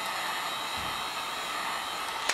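A heat gun blows a steady, loud whooshing roar while drying primer on a 1/350 scale Polar Lights Enterprise refit model kit, running continuously up close.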